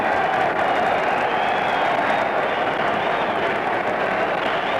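A huge outdoor crowd roars in a steady, dense wash of noise at the Dempsey–Tunney heavyweight boxing fight, held in the rain, sustained and loud without a break.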